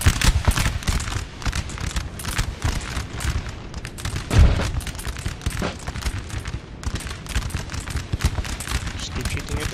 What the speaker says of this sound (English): Just keep shooting at them, keep shooting them, boys.